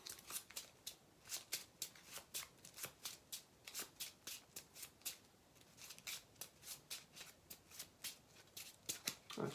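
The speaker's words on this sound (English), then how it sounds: "All I've done is shuffle my discard" Playing cards from a discard pile riffled and shuffled repeatedly during a tabletop card game, a quiet, close run of crisp flicking bursts in an uneven rhythm, with no voices.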